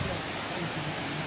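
Glandieu waterfall, a 60-metre cascade in a Natura 2000 site, roars nearby as a steady, dense broadband rush with no breaks.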